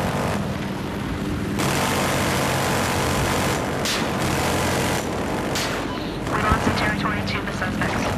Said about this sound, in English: The transport helicopter is here.